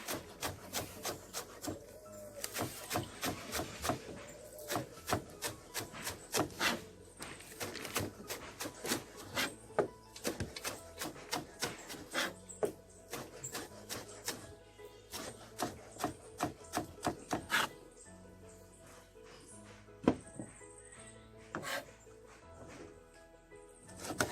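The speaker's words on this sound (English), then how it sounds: "I'm cutting up the scallion" A knife chops scallion on a cutting board in quick, steady, crisp taps that run almost continuously, close and fairly loud, slowing and thinning out toward the end, with no talking over it.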